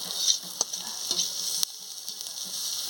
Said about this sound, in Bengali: পেঁয়াজটা ভাজা ভাজা হয়ে এসেছে পেঁয়াজ আর পাঁচফোড়ন